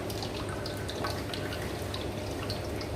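A homemade detox drink drips and trickles steadily as it is strained, a continuous close wet patter with no talk.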